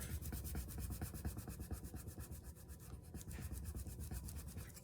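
Steady, close rubbing of a rub-on transfer being burnished onto a paper window envelope, a continuous scratchy back-and-forth friction in quick, even strokes with no talking.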